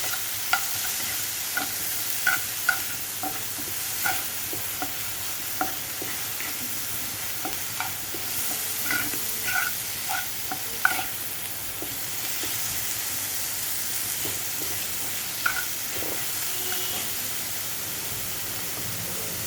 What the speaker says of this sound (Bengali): এবার আমি এটাকে ভালো করে নেড়ে দিচ্ছি।